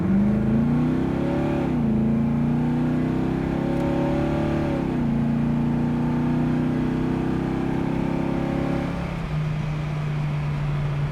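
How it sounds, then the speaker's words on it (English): A 1972 Chevrolet Chevelle with a 454 engine accelerates hard, its loud, steady drone rising in pitch through the gears, heard from inside the car with no talking. "I'm gonna give it a little gas here, see what's in this 454."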